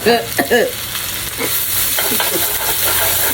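Lo mein noodles stir-fried in oil with smoked turkey and broccoli, a steady sizzle with a few scraping stirs near the start, close and loud with no talk.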